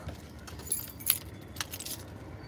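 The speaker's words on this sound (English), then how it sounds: "we're just gonna get our keys" Car keys jangle as they are picked up, a few quick metallic clinks and rattles over faint background noise, close and fairly quiet.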